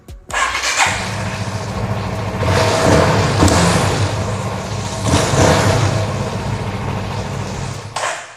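A CF Moto 250 SR motorcycle with a faulty battery being cranked to start, a loud close starter-and-engine churn running for several seconds with surging rises before cutting off.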